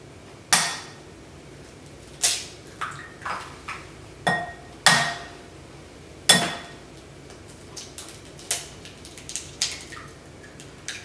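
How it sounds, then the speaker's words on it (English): Eggs are cracked against the side of a bowl in a kitchen, giving sharp, hard taps, a few louder knocks spaced seconds apart, then smaller clinks and light shell sounds, close and alone. "you need to crack it on the side of the bowl and pull it apart with your thumbs"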